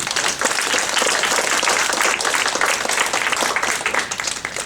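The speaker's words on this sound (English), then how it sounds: "Would you give her a really big applause?" Sustained audience applause for a piano student at a Chopin piano masterclass, a dense, steady wash of many hands clapping close and loud throughout, with no talk over it.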